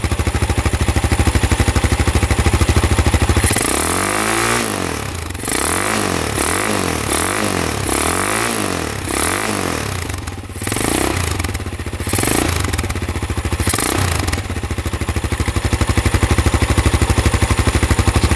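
A brand new low-cost quad ATV engine idles steadily up close, with a rhythmic pulsing chug and some mechanical clatter, running alone without talk.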